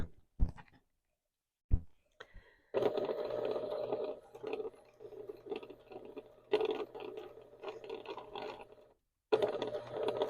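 A sewing machine fitted with a 1/4 inch foot stitches quilt binding, its needle chattering in quick mechanical bursts. Short runs are broken by brief pauses, after a few isolated clicks at the start.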